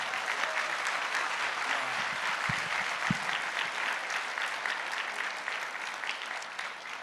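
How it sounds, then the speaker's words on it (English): A large audience at a comic convention's main stage applauds, a broad, even roar of clapping held for seven seconds with a couple of low thuds partway through. "A huge round of applause."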